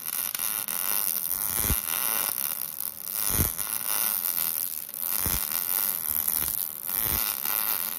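A wire-feed welder welding a steel mower deck, a continuous crackling buzz held steadily with a few brief sharper pops spaced a couple of seconds apart.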